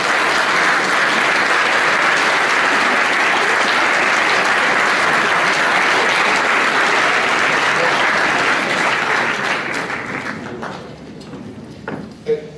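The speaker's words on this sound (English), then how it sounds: "I'd love you to stand up, turn around and face your parents and clap them." Senior students at a school prize giving applaud their parents in a loud, dense, sustained roar of clapping that holds for about ten seconds before tapering off.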